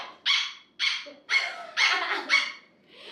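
A person imitates a dog barking, giving five or six sharp, yappy bark-like calls in an uneven rhythm, close and fairly loud, with short gaps between them.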